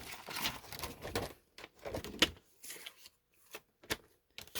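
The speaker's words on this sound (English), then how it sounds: "And I just cut it with the trimmer" A paper trimmer slices a 6x6 piece of paper for card making, giving a series of quiet, close scraping and clicking strokes with short pauses in between.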